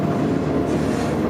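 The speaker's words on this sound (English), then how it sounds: "The train's going slow." A slow-moving freight train rolls steadily past, a continuous loud rumble of railcars and wheels with faint clatter, close by and alone.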